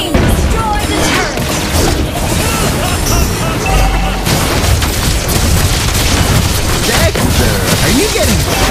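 Turret destruction in a Mobile Legends match, heard as a dense, continuous wash of booming crashes and explosive bursts, loud throughout with a brief dip near the middle, under game voices.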